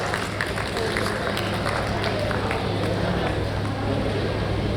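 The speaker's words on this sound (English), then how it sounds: "Please, let's keep clapping until it gets off stage." Steady applause from a meeting audience fills the room without a break, a dense, even wash of clapping with a few louder claps standing out.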